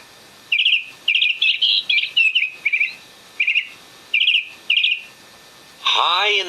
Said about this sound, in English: Listen to it chirrup and sing.